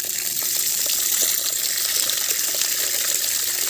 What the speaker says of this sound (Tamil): தண்ணி வந்து வெள்ளையாக வர வரையும் இதை கலைஞ்சி ஊற்றி வச்சுக்கோங்க.